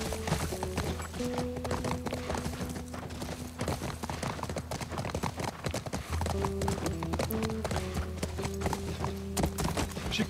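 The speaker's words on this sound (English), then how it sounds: "All right, horse riding." Horse hooves in the video game The Last of Us Part 1, a steady, close clip-clop rhythm under a low droning music bed, with no talk.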